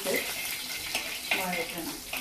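Sliced onion and chopped ginger sautéing in oil for a sardine fish curry, a hissing sizzle with occasional scrapes and clinks of a utensil against the pan, near and moderately quiet.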